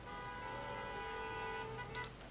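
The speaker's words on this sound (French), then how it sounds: "Ça klaxonne, ça klaxonne." Car horns honk continuously at a yellow vest motorway blockade between Lyon and Saint-Étienne, a steady layered blare of several horns held together for a couple of seconds, fairly near.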